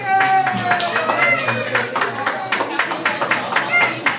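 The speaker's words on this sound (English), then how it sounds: "This is Fantastic Tangent, Season 2, Episode 11. Applause." At the start of a comedy show, a small group claps in a sparse, uneven way. The clapping sits under music and a voice, and people are talking over it.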